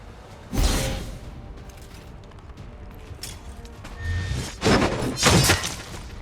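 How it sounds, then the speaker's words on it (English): A ranger's axe thrown at an enemy in XCOM 2: a quick whoosh and heavy impact thud with a crunching, shattering edge, followed later by further bursts of crashing impacts and debris, with no voices. "Ranger Warhawk here, who actually has a very decent hit chance with his axe, so let's throw that first and see how much damage we can do"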